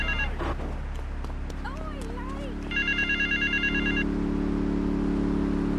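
In Grand Theft Auto 3 Definitive Edition, an electronic payphone in West Belleville Park trills in repeated bursts over traffic and street ambience, with a voice briefly speaking nearby.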